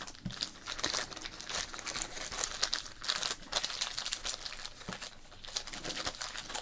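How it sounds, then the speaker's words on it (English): A 1990 Fleer football card pack is crinkled and torn open close up, with dense, continuous crackling wrapper noise and sharper rips scattered through. "We're going to crinkle and rip some 1990 Flair Premier Edition 15 cards."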